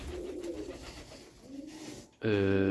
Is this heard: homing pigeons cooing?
yes